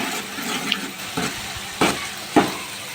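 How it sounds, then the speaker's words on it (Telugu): Onion paste being stirred into a pomfret fish curry in a pan: a low, steady sizzle with a few soft scraping strokes of the spoon, near and fairly quiet, no talking. "ఉల్లిగడ్డ ముద్ద వేసుకున్నాక మంచిగా కలుపుకోవాలి."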